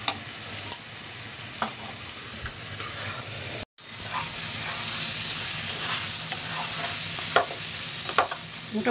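Green chilies and spices fry in a pan for chicken kabsa, giving a steady close sizzle broken by scraping stirs and a short pause near the middle.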